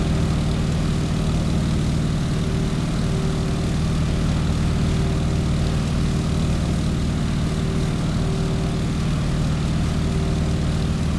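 A propeller airplane engine in Microsoft Flight Simulator drones loudly and steadily while climbing out after takeoff, a constant low rumble with a steady buzzing tone and no pauses.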